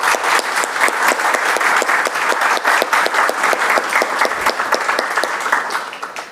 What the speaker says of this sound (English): would you all just join me in giving him one more round of applause?